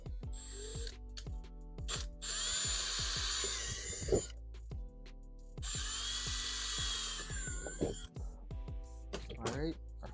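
A power drill bores mounting holes for a Snow Performance water-methanol injection tank on a Hyundai. It whirs in two sustained runs of a few seconds each, with clatter from tools and handling throughout and voices talking over it.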